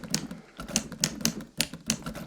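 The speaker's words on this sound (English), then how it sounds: "Typewriters." Typewriter typing in the intro of a song, a series of sharp, distinct mechanical key strikes in an uneven rhythm, loud and close, with a soft musical bed underneath.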